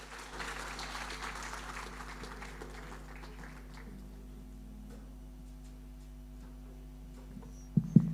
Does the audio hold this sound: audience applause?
yes